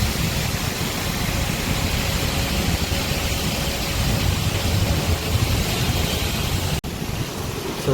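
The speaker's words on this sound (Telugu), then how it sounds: "ఇంకా చూడండి వర్షం కూడా స్టార్ట్ అయిపోయింది" Rain falling outside a TGSRTC electric super luxury bus near a Hyderabad bus stop, a dense steady hiss with low rumbling beneath, continuous and fairly loud, with a brief dropout near the end.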